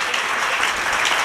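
Church congregation clapping together during a Tamil sermon, a dense, steady burst of applause filling the hall.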